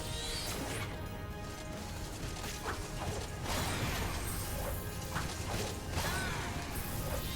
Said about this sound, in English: Arena's being electrocuted.